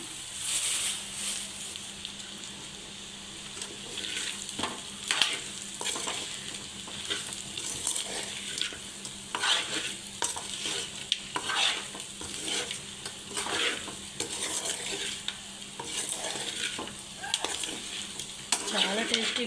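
A farm chicken fry sizzles steadily in hot oil with curry leaves added, while a spoon stirs through it and scrapes the pan in repeated clattering strokes close by.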